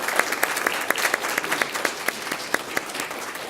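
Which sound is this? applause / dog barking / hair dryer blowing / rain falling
applause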